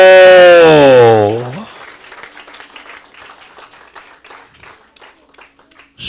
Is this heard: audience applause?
yes